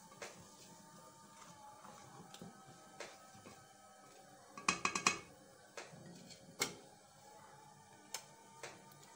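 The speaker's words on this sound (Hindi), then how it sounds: "इसे हिला दूंगी।" Sugar being stirred into mango juice in a pot: faint, sparse clinks and taps of a spoon against the metal pot, with a cluster of sharper knocks midway and quiet background hum.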